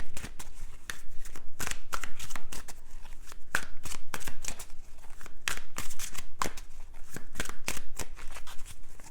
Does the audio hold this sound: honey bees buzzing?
no